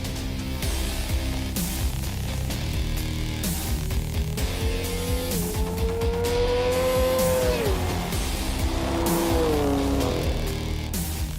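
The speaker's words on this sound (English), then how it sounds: "it's time for a good old-fashioned drag race" A BMW M4 GTS car and a BMW S1000RR superbike drag race side by side, loud continuous engine roar rising in pitch through the gears with tire noise, close and steady, no talking.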